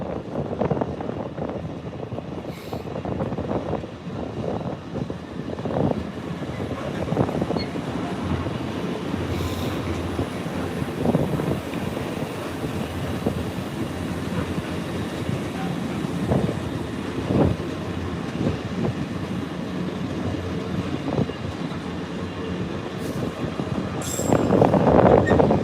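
A long freight train loaded with Stobart containers rolls past at Doncaster in a continuous rumble of wheels and wagons, with occasional squeals and buffeting wind on the microphone.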